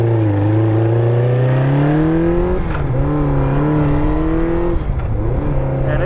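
A 1984 Honda CB700SC Nighthawk motorcycle engine runs loud and steady close by, its pitch rising with a couple of brief revs and dips.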